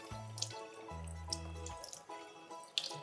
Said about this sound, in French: Donc moi juste rincer mon oignon parce qu'avec les petites saletés qu'il y avait dessus,